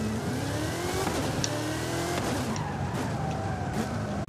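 A Hot Wheels Deora II in Forza Horizon 5 roars through a wheelie, its engine revving steadily with shifting pitch and tire noise, loud and continuous throughout.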